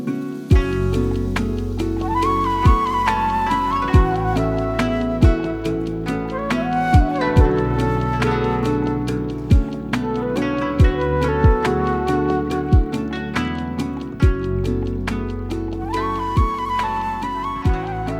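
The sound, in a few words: Japanese oriental lo-fi beat made in FL Studio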